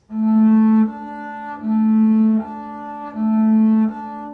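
Three sustained bowed double bass notes for tuning, each held about a second with a softer tone between them, clear and close with no talk.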